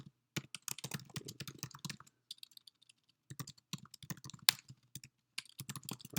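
Fingers type on a computer keyboard while an email is composed, bursts of quick clicking keystrokes up close, pausing briefly before resuming in another run.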